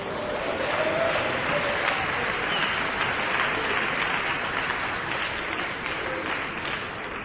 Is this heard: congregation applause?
yes